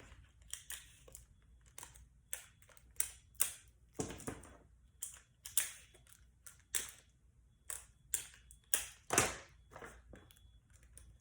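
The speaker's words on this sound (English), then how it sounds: "That's why I am gonna use some tape." Strips of tape pulled and pressed down while assembling a homemade paper dreidel craft, a series of short crackly rips and taps at close range, spaced irregularly with two louder tearing bursts, no talking.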